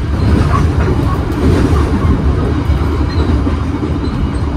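The Pasundan passenger train rolls on the rails with a loud, continuous rumble and a steady rattle of wheels and carriages, heard from close by for the whole stretch.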